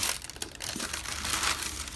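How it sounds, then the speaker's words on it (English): Tissue paper crinkles and rustles close up inside a Gucci shoe box for a men's signature slip-on sneaker, a soft, continuous papery crackle with no talk. "So inside the box it comes in tissue paper."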